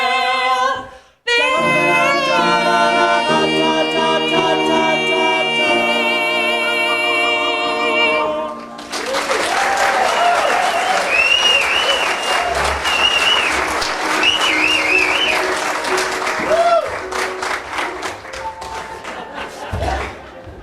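A theater audience breaks into loud, sustained applause after a young woman's song in a stage musical, dense clapping with a few cheers that swells and then thins toward the end, following a sung final note.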